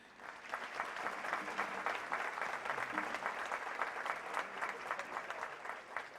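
Sustained applause from an audience at a formal assembly ceremony, dense and steady throughout, with many hands clapping at moderate distance and no break.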